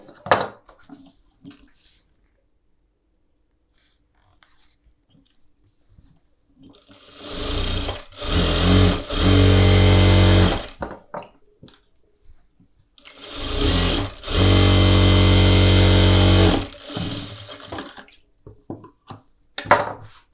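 A sewing machine stitches a blouse collar in two sustained loud bursts of rapid whirring, separated by a short pause, with quiet handling and fabric rustle before and between the runs.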